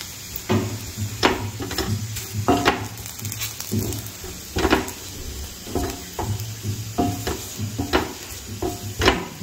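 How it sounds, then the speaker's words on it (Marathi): Grated coconut roasts with onion in a pan, giving a steady sizzle broken by repeated scraping stirs of a spoon against the metal, close and fairly loud. "खोबरं पण असं छान भाजून घ्यायचं."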